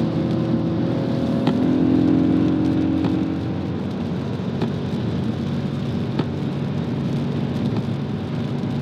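Audi RS4 B7 with a V8 engine past 391,000 km pulling hard in third gear on a rainy road, a steady loud engine drone with rising tone heard from inside the cabin.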